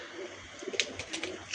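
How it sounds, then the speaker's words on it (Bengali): Pigeons of the Andhra fulsira tiplar breed coo softly in a short burst of low murmuring calls, faint and close, with a few light higher chirps mixed in. "এই হচ্ছে পায়রা"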